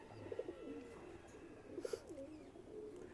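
Soft cooing of new adult Teddy pigeons, two short low coo bursts repeated about a second and a half apart, faint and close against a quiet room.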